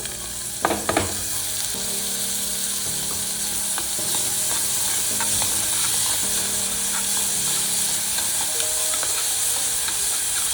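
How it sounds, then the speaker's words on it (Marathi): Finely chopped onion frying in a pan for dal khichdi, a steady loud sizzle with a few clanks of a stirring spoon near the start and low background hum. "आता आपण ह्यामध्ये टाकणार आहोत बारीक चिरलेला कांदा"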